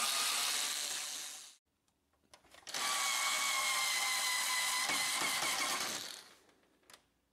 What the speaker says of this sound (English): Insert the two screws.